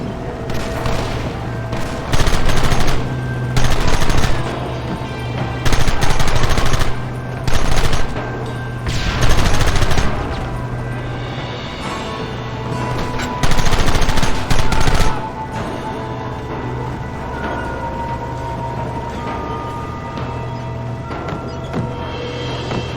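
Sustained gunfire in the Red Dead Redemption shootout, with rapid bursts of rifle and machine-gun fire coming in loud waves and dense fusillades, close and heavy, with short lulls between volleys.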